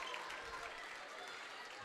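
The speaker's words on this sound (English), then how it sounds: "Starters get a good hand from the student body cheering section right behind the Kahawks bench" Applause from a student cheering section behind the home bench at a high school boys basketball game, steady and moderately distant, filling the whole moment with dense clapping and crowd noise.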